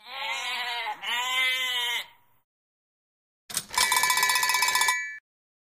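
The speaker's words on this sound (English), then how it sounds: "A sheep. Excellent." A sheep gives two close, wavering bleats, followed after a pause by a short burst of bright metallic clanking like a bell.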